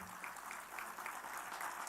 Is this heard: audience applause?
yes